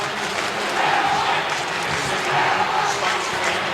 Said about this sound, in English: Good crowd, very good crowd in terms of COVID, a capacity crowd here at the Adelaide Oval